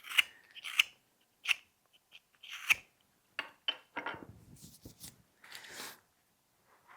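A knife takes pulling cuts through wood while roughing out a carved snowman, giving a series of short, close scraping and snicking strokes with brief pauses between them, no voices.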